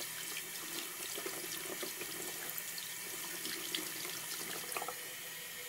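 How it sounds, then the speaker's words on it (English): A makeup sponge is rinsed under a running tap in a sink, giving a steady, fairly faint water flow with light splashing throughout and no speech. "just give it a good scrub and rub, and then rinse it off"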